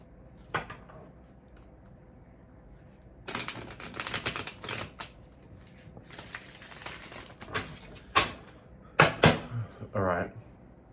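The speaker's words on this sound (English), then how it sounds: "I'll just give the cards one more shuffle." Tarot cards riffled and shuffled by hand in several quick papery bursts, close and crisp, separated by short quiet gaps.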